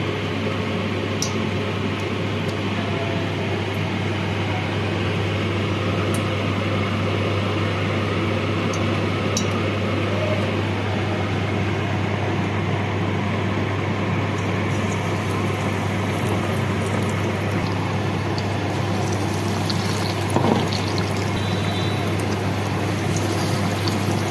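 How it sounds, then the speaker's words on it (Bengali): Batter-coated fish fillets deep-frying in hot oil give a steady, even sizzling hiss that continues the whole time, with a constant low hum underneath and no talking. "এবার ব্যাটারে চুবিয়ে এগুলোকে ফ্রাই করে নেব।"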